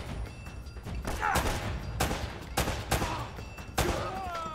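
Gunfire in the video game Uncharted: several sharp, loud shots and bursts ring out at uneven intervals over a busy rumbling battle bed, close and punchy.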